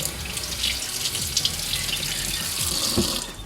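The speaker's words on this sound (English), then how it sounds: "So if you guys rinse it," Tap water runs over a washable, waterproof placemat as it is rinsed, a close, steady splashing gush with small surges and drips for several seconds, with no talking.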